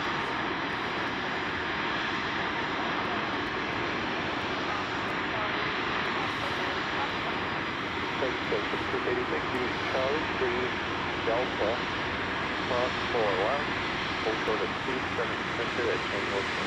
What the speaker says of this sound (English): This is an Airbus A330.